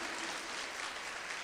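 Dense, steady applause from a church congregation, continuous and fairly even throughout the short stretch with no individual claps standing out.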